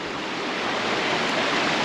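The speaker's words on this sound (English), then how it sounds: "we're going to follow this waterfall" A waterfall near Seathwaite Farm in the Lake District gives a steady, broad rushing roar of falling water, close and loud, with no other sounds in the brief moment heard.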